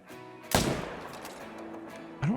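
Rifle shots aimed at a running herd of water buffalo in the hunting video game Call of the Wild: a sharp, loud crack with a decaying tail, then a second shot near the end, over a faint background.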